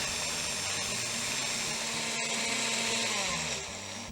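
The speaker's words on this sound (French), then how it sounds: "Et maintenant, on mixe le tout." A blender whirring through peeled tomatoes, chopped garlic and flat-leaf parsley for a seafood paella, a steady loud motor whine that holds for several seconds and then drops slightly as it slows, with no talk.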